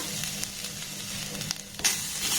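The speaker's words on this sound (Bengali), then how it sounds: "গ্যাসের ফ্লেমটাকে লো রেখে প্রথমে এই নারকেল কুড়োটাকে একটু নাড়াচাড়া করে ভেজে নেব" Grated coconut is stir-fried in a pan over a low gas flame: a continuous soft sizzle broken by a few light scrapes and taps of the spoon, with a brief louder clatter near the end.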